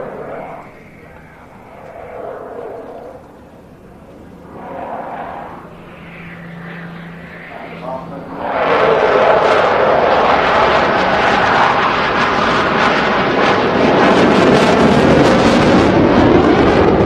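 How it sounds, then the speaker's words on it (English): Two display aircraft in formation at the Bournemouth Air Festival roar past, their jet noise surging loud and sustained after a commentator speaks over quieter background engine sound. "They're rolling out on the 45-degree line now towards us for a 360-degree turn."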